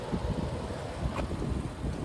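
Steady rumbling wind buffets the microphone with low, gusty roar throughout during a drive in a 2026 Nissan Rogue SV FWD, rising briefly in a few stronger surges.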